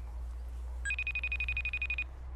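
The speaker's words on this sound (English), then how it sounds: "Well, it's ringing." A FaceTime audio call ringtone trills in a steady rapid electronic pulse for about a second, fairly quiet over a low background hum.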